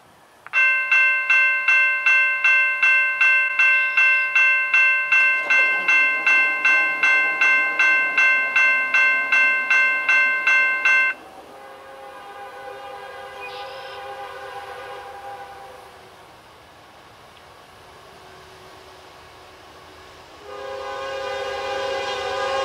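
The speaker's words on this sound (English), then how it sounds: "an AC44C6M in the lead and a Tier 4 GLO ET44AH trailing second on this intermodal that we're about to get" Intermodal freight train led by an AC44C6M with a Tier 4 ET44AH trailing second, passing at a crossing with a rapid ringing bell for about eleven seconds, then steady rail and wheel rumble, horn-like tones swelling near the end.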